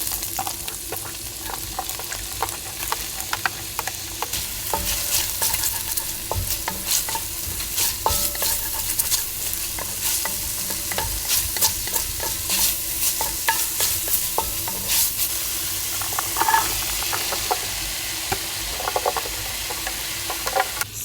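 Flour-coated pork stirred and frying in a pan for a homestead stew, a steady close sizzle broken by frequent scraping and clinking stir strokes, with no talking.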